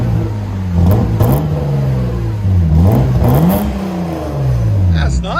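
A 1995 BMW 325i inline-six with a DC Sport exhaust revs up repeatedly, its rising and falling engine note rumbling close by, and voices talk over it.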